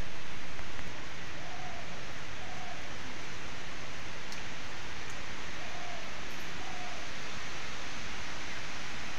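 Light drizzling rain falling steadily, a soft continuous hiss with no break, fairly close and even throughout.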